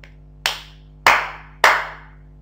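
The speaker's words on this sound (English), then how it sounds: "Clap louder." A class claps in unison: three loud, sharp claps spaced about half a second apart, each ringing briefly in the room.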